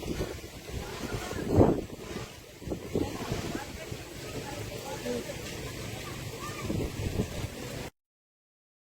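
Wind blows steadily outdoors and buffets the microphone in rough gusts, with a louder burst near the start, and a person speaks over it.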